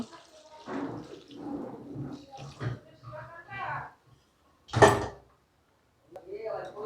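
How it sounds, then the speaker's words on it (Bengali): Water is poured into a pot of vegetables cooking in milk on a gas stove for a Bengali shukto, making one short, close splash amid a person's ongoing talk. "এখন এর মধ্যে খানিকটা জলও অ্যাড করে দেব"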